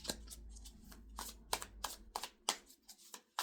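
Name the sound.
shuffling cards for an intuitive energy reading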